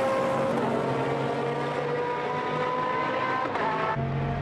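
GT1 race cars circle the Donington circuit during qualifying, a continuous loud engine drone with shifting pitch as cars pass, heard at a distance with no voices.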